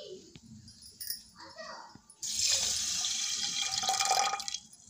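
Water pours steadily into a pan of sugar for gooseberry (amla) murabba syrup, a close, continuous splashing rush lasting about two seconds after a few quiet kitchen clinks.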